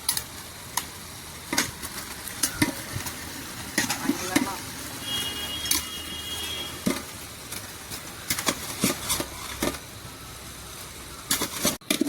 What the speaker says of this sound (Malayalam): ചിക്കൻ ഇട്ടെടുത്ത് നല്ല മിക്സ് ആക്കി കൊടുക്കാം നമുക്ക്